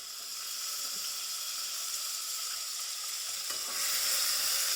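Chopped chillies and tomatoes fry in hot oil in a pan for a Gujarati dal dish, a steady bright sizzle with a soft hiss that grows slightly louder near the end.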